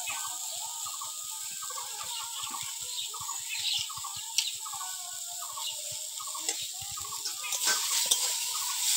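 Vegetables, bitter gourd and drumstick stalks, sizzle softly in a pan as cumin paste is stirred in for a Bengali fish curry, with a steady hiss and a regular clatter of stirring, fairly quiet and continuous.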